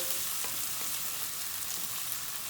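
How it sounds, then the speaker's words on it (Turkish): Garlic and onions sautéing in a pan for a thick sauce, a steady close sizzle that runs through without a break, with faint scrapes of stirring. "İyice bunu bir soteleyeceğiz."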